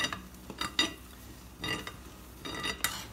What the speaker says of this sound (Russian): берем мой кунжут, белый кунжут, на сухой сковородке жарим